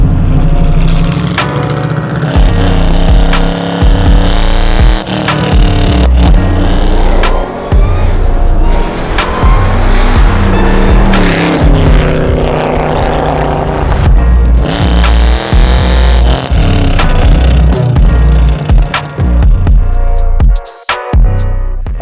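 A 750-horsepower 1969 Chevy Camaro engine runs loud and close, a dense rumbling throb with sharp revving swells, steady throughout and cutting off briefly near the end.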